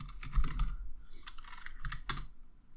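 Clicks of typing on a computer keyboard, a quick run of close keystrokes with a slight pause before a sharper final tap.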